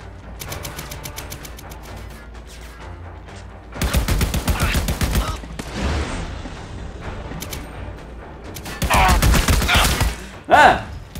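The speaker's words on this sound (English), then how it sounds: "I need support fire now!" Gunfire in the video game Army of Two: dense, loud automatic bursts in several long volleys with short gaps, with voices talking between them.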